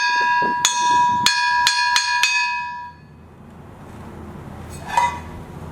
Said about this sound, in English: Cantonese small gong.